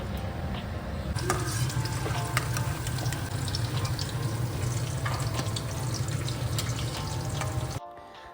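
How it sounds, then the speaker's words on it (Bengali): Whole spices (cumin, cardamom and cinnamon) tempering in hot oil, then potatoes added and frying for a soya chaap kofta curry, with a steady dense sizzle and stirring clatter throughout, ending in a sudden drop to near silence. "ফোড়নে দিয়ে দিচ্ছি সাদা জিরে এলাচ দারচিনি তারপর আলুগুলো আমি দিয়ে দিলাম"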